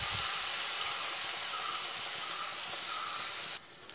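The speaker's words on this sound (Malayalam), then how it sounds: "ഞാനൊരല്പം കടല വേവിച്ച ഗ്രേവി ഇതിലേക്ക് ഒഴിച്ചു കൊടുക്കുന്നുണ്ട്." Cooked chickpea gravy for Kerala-style kadala curry poured into a hot pan over a low flame gives a steady, broad sizzling hiss that holds for several seconds, then drops to a quieter simmer just before the end, with no voices.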